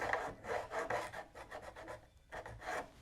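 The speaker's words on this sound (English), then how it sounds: "a diamond file is always going to be scratchy" A diamond file rasps back and forth across guitar frets in quick rhythmic scratchy strokes, close and fairly quiet, with a short pause before the strokes resume.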